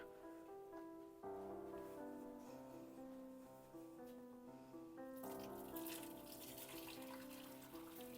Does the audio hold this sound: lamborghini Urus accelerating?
no